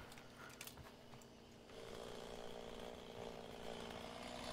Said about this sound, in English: Is my chainsaw still running? It sounds like it.